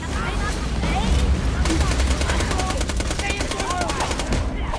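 Automatic turret fire from the video game Borderlands, a loud, dense stream of rapid gunshots rattling continuously throughout, with a voice talking faintly underneath.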